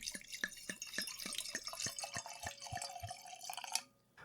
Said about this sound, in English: I couldn't help but give it a smell when I was pouring it into the glass.